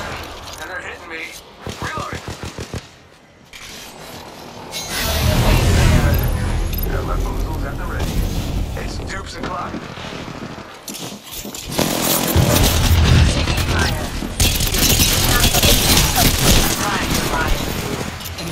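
Bursts of gunfire in the Apex Legends video game, loud rattling volleys and impacts recurring across the stretch, mixed with game voice lines.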